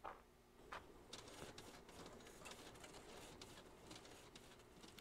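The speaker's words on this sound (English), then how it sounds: "This is the most insane printer I've ever seen in my life." A printer runs in the video game Beside Myself, a steady mechanical whirring and rattling with repeated clicking pulses, fairly faint and heard on its own.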